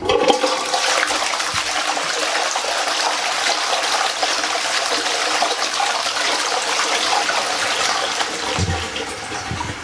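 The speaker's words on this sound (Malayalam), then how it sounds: "അതിനുശേഷം നമുക്ക് ഫ്ലഷ് ചെയ്യാം" A toilet flushes with a loud, rushing gush of water that swirls steadily for several seconds, then starts to ease off near the end.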